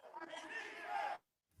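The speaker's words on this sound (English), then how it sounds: "as you can hear the crowd going in here, chanting defense." A crowd at an indoor arena football game in the Midwest Arena Football League chants defense, a brief loud roar of many voices lasting about a second before cutting off.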